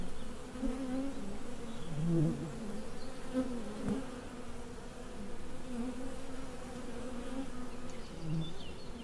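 Bees and wasps buzz continuously around a beehive fitted with a wasp excluder, a dense droning hum with individual insects swelling louder as they pass close, no talking.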